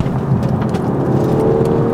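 An Audi A5's engine runs hard with a steady low, loud roar and whir, heard close without talk.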